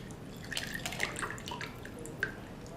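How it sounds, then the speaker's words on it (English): Rinsed buckwheat groats are shaken and left to drain, giving a steady wet trickle with scattered drips and small splashes close by, and one brighter drop near the end. "I'm just going to kind of shake them up a little bit and allow them to drain"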